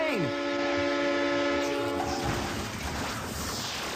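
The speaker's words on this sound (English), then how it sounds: "But wait! Look out for that train!" A loud train horn blares in long, sustained tones over the rushing, rumbling noise of a train passing close by, continuing steadily for several seconds.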